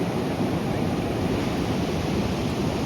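Ocean surf at Trevornick beach in Cornwall: a dense, continuous wash of breaking waves with a gusty, windy roar, steady and fairly loud throughout, with no talking.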